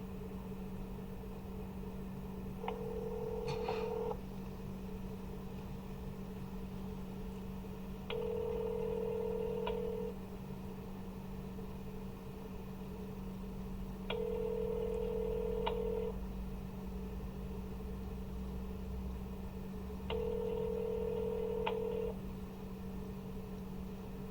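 Outgoing phone call ringing over speakerphone, four evenly spaced ringback tones about two seconds long with long gaps, heard through a steady background hum, no talking.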